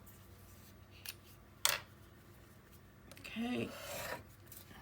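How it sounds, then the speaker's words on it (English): A miter tool snips the corners of patterned scrapbook paper for an album build, giving one sharp cut and then a longer rasping cut a moment later, faint and close, with a brief spoken word early on. "Time to miter our corners."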